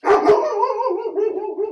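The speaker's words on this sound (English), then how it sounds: "That is our dog" A pet dog barks twice in quick, loud yips close by, followed by a drawn-out whining howl that trails off, with a brief spoken word at the start.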